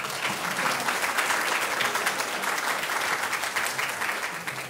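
Warm, sustained applause fills a university award ceremony at the close of a presentation competition as a presenter is welcomed, an even wash of many hands clapping with no talk over it.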